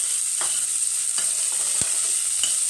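Onion and garlic fry in a pan with a loud, steady sizzle, broken by a few sharp taps and scrapes of stirring.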